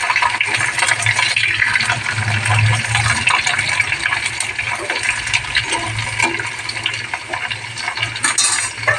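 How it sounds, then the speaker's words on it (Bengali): Nigella seeds temper in hot oil in a pan, a loud, dense, continuous sizzling hiss that holds steady throughout without speech. "এই দেখো তেল গরম হয়েছে, কালো জিরা ফোড়ন দিয়েছি।"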